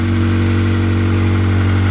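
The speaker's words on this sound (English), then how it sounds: "it sounds a little bit loud because of the exhaust leak." A 1994 Honda Accord wagon engine idles loudly through an exhaust leak, a steady low rumble with a strong throbbing drone that holds even and close throughout.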